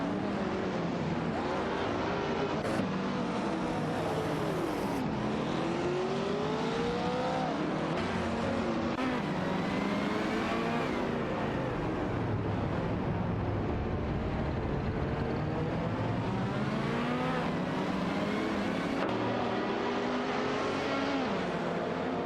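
Race cars in a simulated AI race, engines revving and accelerating in overlapping rising and falling whines as several cars pass, loud and continuous throughout.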